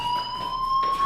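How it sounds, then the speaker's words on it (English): Fire alarm ringing inside the video game Life Is Strange: a loud, steady electronic tone that holds unbroken through the whole short stretch, with no voices over it. "do you hear that fire alarm? That means you should be outside."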